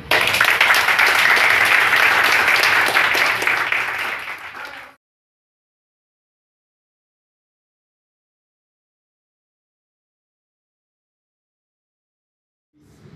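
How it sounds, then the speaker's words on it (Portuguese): An audience claps after a poetry recital, a loud burst of applause lasting about five seconds that ends abruptly and leaves a long silence. "Palmas?"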